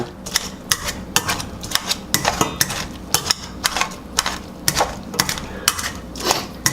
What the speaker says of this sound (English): We're going to mash this a little bit like a potato masher.